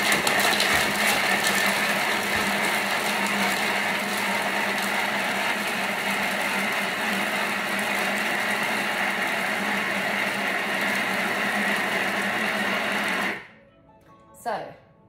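A Thermomix blends a coconut and beetroot mixture at speed 7 with a loud, steady high-pitched whirring drone. The motor runs for about thirteen seconds, then cuts out abruptly, followed by brief rattling and a short burst.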